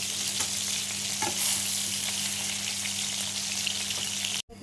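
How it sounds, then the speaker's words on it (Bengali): Tengra fish fry in hot oil with a steady, close sizzling crackle and a brief stir partway through, ending in a sudden short cut before resuming. "ভালো হয়ে গেল, মাছগুলো ভাজা হয়ে গেছে"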